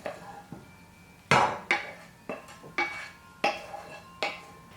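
Vegetables tipped into a pan of oil-free hash brown potatoes, making six sharp clattering knocks at a steady, uneven pace, close and distinct, each ringing briefly against the pan with quiet gaps between.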